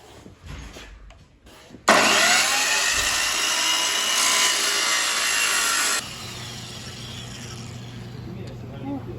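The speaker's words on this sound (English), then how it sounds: "Pretty good for an angle grinder." Angle grinder cutting on a car during a turbo installation, a loud high-pitched whine that starts abruptly and runs steadily for about four seconds before cutting off, with people talking nearby.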